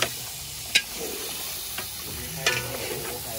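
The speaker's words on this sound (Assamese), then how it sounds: "মেইন আমাৰ ই 17200 টাকাৰ পাঠাচৰে মাংস মানে একদম ৰেকৰ্ড আমাৰ পাঠাচৰে বৰ্তমান কাঢ়াত দিয়া হৈ আছে" Goat meat fries in a wok with a constant loud sizzle, broken by a few sharp scrapes and clanks as it is stirred, with no voices.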